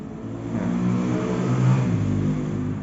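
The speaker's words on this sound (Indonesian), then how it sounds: "mohon maaf kalau misalnya ada suara motor lewat atau mobil lewat" A motorbike or car passes on a road outside, its engine rising and swelling over a few seconds as it nears and revs, moderately loud, with no talking.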